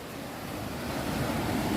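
Rough ocean surf breaks and rolls at a beach, a steady broadband wash that builds slightly louder toward the end, with some wind buffeting the microphone and no voices.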